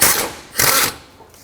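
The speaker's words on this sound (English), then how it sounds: "With a 15mm socket, remove the bolt that holds this pulley on." A 15mm socket on a ratchet removing an idler pulley bolt on a Chevrolet Express, two short close ratcheting bursts in quick succession with no talking.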